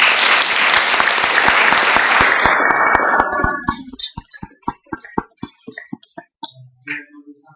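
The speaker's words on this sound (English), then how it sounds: "So just a quick round of applause for our phenomenal design facilitators" A workshop audience applauds the design facilitators with dense, loud clapping for about three seconds that thins into scattered individual claps and fades out.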